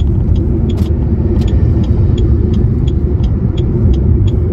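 Steady, loud road traffic rumbles continuously, with cars passing close by and faint ticking sounds on top.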